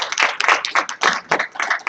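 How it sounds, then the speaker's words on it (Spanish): A small audience claps at the opening of a 2019 tax reform seminar, a short burst of uneven, fairly close clapping in rhythmic waves that stops abruptly. "Le damos un aplauso para dar inicio"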